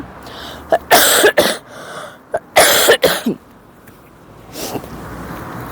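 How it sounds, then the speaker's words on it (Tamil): Harsh, heavy coughing from a severe illness in several rough bursts, a double cough, then a longer fit, and a fainter cough after a pause. "கடுமையான இருமல்"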